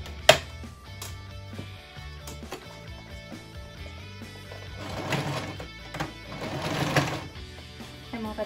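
Sewing machine stitching a zigzag seam on a fabric tote bag with leather handles, a steady mechanical whir with rapid needle ticking that speeds up in bursts, close by, with clunks at the start and no talk.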